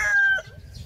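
A Cheonggye or native Korean rooster crows, a brief, close, clear burst that breaks off after less than half a second and leaves only faint background noise.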